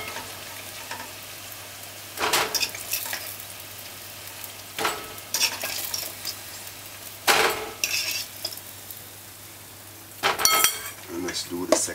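Salt-fish fritters sizzle in hot oil on a high stove, a steady close frying hiss with periodic louder bursts and clinks as the batter is stirred or turned, with no one speaking.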